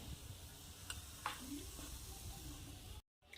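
Veg Manchurian balls deep-frying in oil, a faint, steady sizzle with a few light clicks, quiet and close, cut off by a brief silence near the end.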